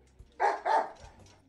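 A dog in the video game Deadly Premonition gives two loud, close barks in quick succession, followed by a couple of fainter yips and then quiet.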